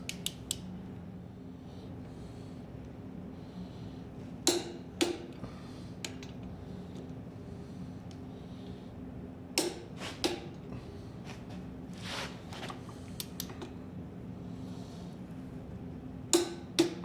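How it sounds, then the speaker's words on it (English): A torque wrench clicks sharply a few times as the main caps on a Dana 80 axle in a 1989 Ford F-Super Duty rollback wrecker are tightened, with isolated clicks spread out over a faint steady background. "Remember to torque our main caps, or saddle caps, whatever you want to call it."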